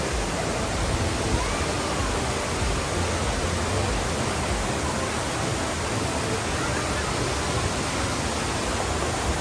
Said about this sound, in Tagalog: Yan pala yung pinaka-Balagbag Falls.